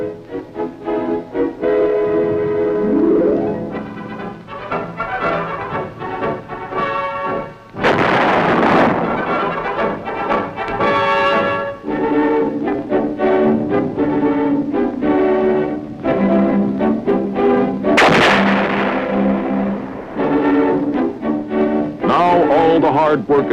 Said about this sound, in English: the big guns go into action, providing support for the men in the field